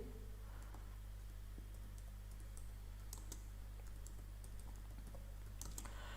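Quiet typing on a computer keyboard during an office search task, soft irregular keystrokes clicking over a steady low hum.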